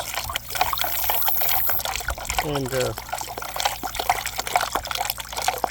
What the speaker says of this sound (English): Now I'm going to just keep stirring this, mixing it up as the water adds up